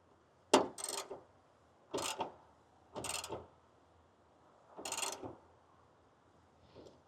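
Five short bursts of ratcheting as a wrench tightens a ditch light bracket bolt on a 2025 Toyota 4Runner, close and crisp with pauses between, ending in a faint click.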